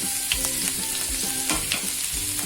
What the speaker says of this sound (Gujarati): રાઈ મેથી સરસ ફૂટવા લાગ્યા છે.